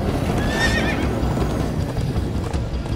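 Horses whinny shrilly over a steady clatter of galloping hooves in the video game Minecraft: Story Mode, loud and close throughout.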